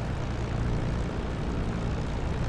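The engine of a P-51 Mustang runs in DCS World, a dense, steady propeller drone at constant loudness, with no voices.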